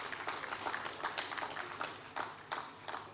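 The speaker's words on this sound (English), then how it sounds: "can we give His Excellency another resounding round of applause?" Applause for a dignitary at the Abuja International Housing Show, a faint, distant round of clapping from the audience with irregular louder bursts.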